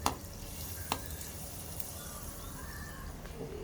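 Steady sizzling of prawn and chicken wonton dumplings frying slowly in oil over low heat, a continuous crackling hiss with a couple of sharp clicks near the start.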